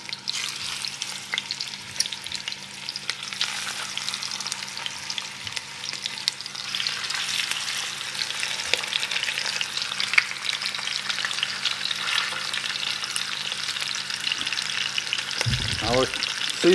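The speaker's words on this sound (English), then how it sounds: "Just so it's making a little sizzle." Chicken browns in hot oil for Cajun brown chicken and gravy, with a steady, gentle frying sizzle throughout, occasional stirring clinks and a brief louder knock near the end.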